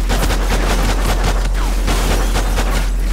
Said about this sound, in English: Getting shot to shit, but that's all right.